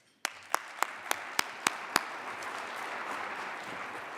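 Audience applause for a keynote speaker at a cybersecurity summit in Boston, opening with several sharp individual claps before swelling into a steady, sustained wash of clapping from a full room.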